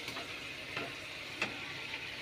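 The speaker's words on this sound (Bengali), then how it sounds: "এবার মশলাটা একটুখানি কষাই ভালো করে" Masala paste is stir-fried in a pan for a cauliflower-leaf fish curry, giving a soft, steady sizzle with a few faint scraping strokes of a spatula at intervals, fairly quiet, with no one speaking.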